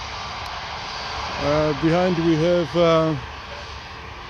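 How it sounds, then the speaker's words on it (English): A Transavia Airbus A320 jet taxies at Orly airport, its steady engine roar and whine filling the background while someone talks over it at close range. "What do we have here? Transavia A320 Airbus."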